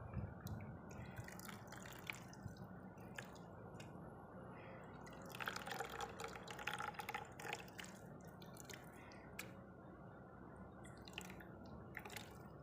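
Tamarind water drips and trickles steadily onto rice in a quiet room, with a brief wetter splashing burst midway, close and fairly soft.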